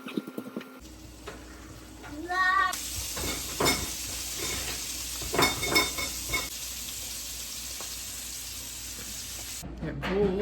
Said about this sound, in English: I'm about to fry us some eggs